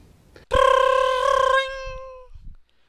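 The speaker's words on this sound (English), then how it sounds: "I'm sorry, I can't answer that phone right now." A single loud telephone ring sounds as one sustained tonal burst about a second long, then fades away, followed by faint low thumps.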